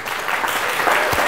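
Audience applause at the final of a Georgian student quiz show: dense, steady clapping from a studio crowd that fills the whole short stretch at an even loudness.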